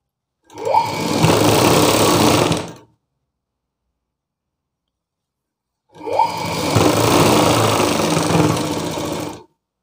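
A sewing machine stitches folded blouse lining cloth in two loud, sustained runs of rapid whirring, each about two seconds long and separated by a few seconds of silence.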